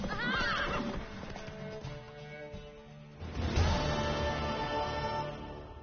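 A horse whinnies near the start of a scene in The Witcher 3, with hoof clatter and a game-like music and effects bed continuing underneath.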